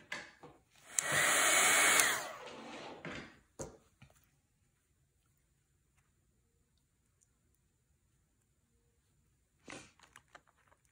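Hair dryer blowing on a painting to dry the paint, a loud whooshing burst of about a second that stops abruptly, followed by faint clicks and near silence.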